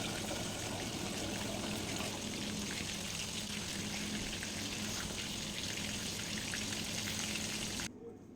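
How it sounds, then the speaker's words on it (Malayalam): Chicken lollipops deep-frying in hot oil make a steady, dense bubbling hiss that holds at a constant level without talk, then drops away abruptly at the end. "ഇതേപോലെ നമുക്ക് ബാക്കിയിരിക്കുന്നതും ഫ്രൈ ആക്കി എടുക്കാം"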